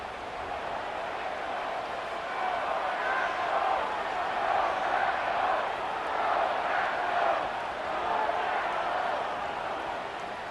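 A stadium crowd roars in a Madden 26 football video game, Panthers against Packers, a continuous broad wash of crowd noise that swells and ebbs at moderate loudness.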